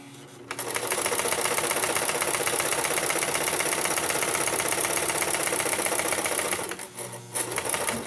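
A sewing machine stitches a fabric face mask in a steady, close rhythmic whir that runs for several seconds and ends with a short pause and a final brief burst.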